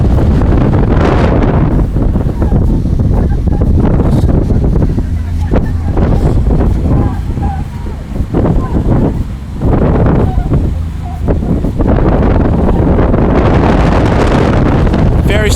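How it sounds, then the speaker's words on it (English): Strong gusty wind buffets the microphone in loud, rumbling bursts, rising and falling in heavy waves throughout, during a women's rowing race on rough, whitecapped water. "Very stiff gusts."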